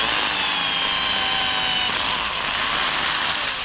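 A power drill bores a 6 mm hole into a fence post for a vegetable garden fence, running as one steady high whine with a brief pitch dip partway through, loud and close, with no talk.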